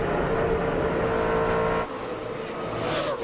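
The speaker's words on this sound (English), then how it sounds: "you can hear Tony get out of the gas" Tony Stewart's stock car at Charlotte in the 2004 UAW-GM Quality 500 roars at full throttle with a loud, steady engine note, then drops abruptly as he lifts off the gas, the engine settling into a lower, quieter hum.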